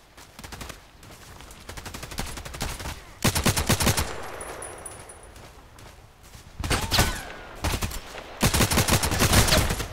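Rapid bursts of video game gunfire from Contract Wars crackle in loud, repeated volleys with quieter gaps between, like automatic weapons trading fire at close range.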